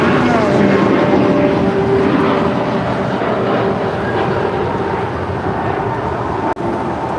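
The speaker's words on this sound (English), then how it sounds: "This is a brand new Airbus A321neo departing to Philadelphia." An American Airlines Airbus A321neo departing LAX, a loud, steady jet roar with a low rumble that eases slightly toward the end.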